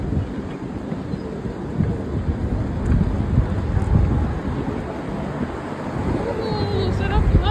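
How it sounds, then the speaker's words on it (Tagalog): Wind gusts rush steadily outdoors, a broad loud blustery roar through the whole stretch with slight swells, alone with no talk. "Oh, sarap hangin."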